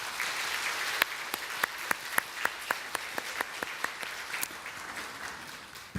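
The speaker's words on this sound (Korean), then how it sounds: "여러분 인사할 때 격려의 박수를" A church congregation at a Sunday service claps in encouragement. A soft bed of clapping is broken by a series of sharp, loud individual claps in a rough rhythm that gradually spaces out and fades.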